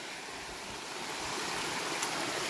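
A steady, even rush of water from a waterfall and stream at Majgaon in Bongaigaon, Assam, forms a continuous broad hiss with no breaks and no voices.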